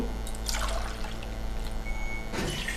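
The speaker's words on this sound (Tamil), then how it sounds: "மூணு டம்ளர் தண்ணி ஊற்றுறேன்" Water pours and splashes into a pot of rice for chicken biryani in two bursts, a steady trickling gush into the vessel with a short pause between.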